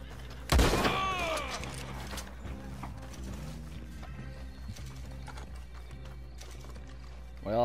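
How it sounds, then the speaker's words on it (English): In Red Dead Redemption 2, a western video game, a horse neighs loudly and close, then hooves and faint mechanical clatter carry on softly under a steady low hum. "Well, there's my horse."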